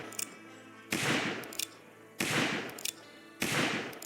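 Revolver shots in the Roblox Wild West game, three loud, sharp bursts spaced about a second apart, each fading out, with small clicks between them.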